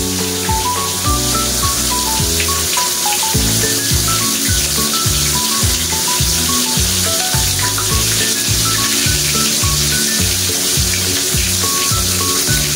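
Food frying in a pan during home cooking, a steady broadband sizzle running the whole time beneath loud, continuous music with a plucked melody and pulsing bass.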